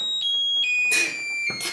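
A motion alarm built from an electronic construction kit sounds in short, piercing high-pitched beeps, repeating unevenly and fairly close, with bursts of noise between tones.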